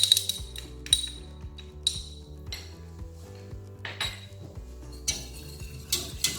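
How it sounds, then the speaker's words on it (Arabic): Starch being whisked into about 800 ml of cold milk for a pizza sauce, a run of rhythmic clinking and scraping as the whisk strikes a metal pot, fairly close and steady, with no talking. "كنخلطوا واحد وهو بارد"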